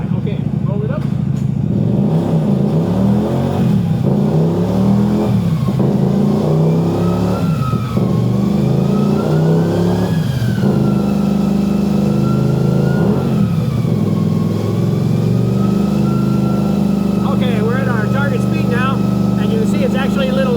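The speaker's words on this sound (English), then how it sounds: "I'm going to turn on the stretch, and you can hear it revs up quite a bit" A car engine revving up on a Power Stretcher tuning setup, a loud, continuous mid-pitched drone with rising and falling pitch sweeps over about twenty seconds.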